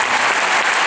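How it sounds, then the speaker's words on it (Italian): Concert crowd applauding at a show in Bologna, a brief, loud, dense burst of many hands clapping with no voices on top. "voglio fargli un piccolo applauso"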